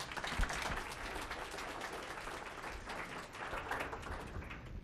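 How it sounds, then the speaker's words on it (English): Faint, distant applause from a lecture-hall audience at a Boston University breast cancer conference, a steady wash of many hands clapping at low level. "please give her a great round of applause"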